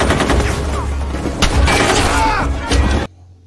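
A battle scene from a sniper film, with a dense exchange of gunfire: rapid overlapping shots and bursts crackle loudly and continuously for about three seconds, then cut off abruptly into near silence.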